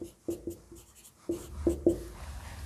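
Pen or pencil writing out a class 12 probability maths solution on paper: scratchy strokes close up in several short bursts with brief pauses between, alone with no talk.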